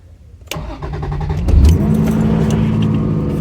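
A Toyota Cressida MX83 fires up after an engine conversion: a starter crank around half a second in, then the engine catches with a loud surge and settles into a steady, throbbing idle, close to the microphone.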